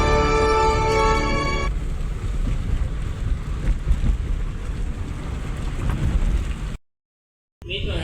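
Steady rain pours down in a dense, even hiss, following a brief musical tone at the start and ending with a short cut to silence.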